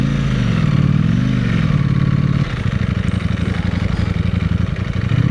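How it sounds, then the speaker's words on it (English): A Ducati Panigale V4S motorcycle is ridden off-road, its engine close and loud. A wavering, rising and falling drone shifts midway into a choppy, pulsing rumble as the bike moves over rough ground. "Off-roading on the Panigale V4S"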